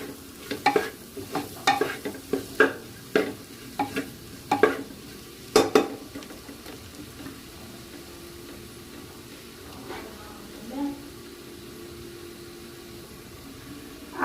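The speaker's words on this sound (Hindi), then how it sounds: "मसालों को हल्का थोड़ी देर और भूंजेंगे" Spices stirred and dry-roasted in a pan for veg biryani made in a pressure cooker, with repeated close scraping strokes over a soft sizzle that thins out toward the end, no talking.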